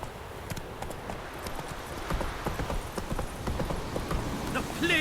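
Roach the horse gallops in The Witcher 3, a steady clip-clop of hooves running through the whole stretch beneath dense game ambience, with a brief voice near the end.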